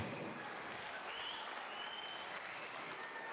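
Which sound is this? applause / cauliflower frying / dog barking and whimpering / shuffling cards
applause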